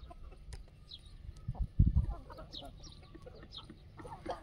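A free-range desi hen clucks in short, repeated bursts on a farm, with other fowl calling faintly in the background and a louder flurry of clucking near the middle.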